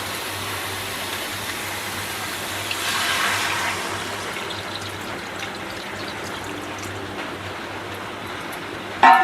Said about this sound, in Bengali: এবার এতে আমি জল দিয়ে নেব।